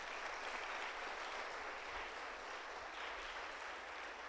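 A church congregation at an Easter Sunday service claps in a continuous, even wash of applause, with no voices on top.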